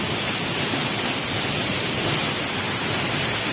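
A waterfall in La Paz, Costa Rica pours as a steady, loud, unbroken roar of rushing water that fills the air evenly from start to finish with no voices.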